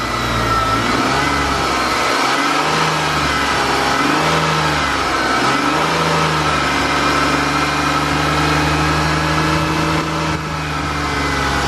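A BMW E36 engine revs as the car accelerates, a loud, steady drone with rising and falling harmonic tones throughout and no talking.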